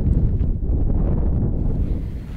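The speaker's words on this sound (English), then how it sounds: "As you can hear, it's mega windy." Strong wind in the Peak District blasting against the microphone, a loud low rumbling roar that gusts continuously throughout.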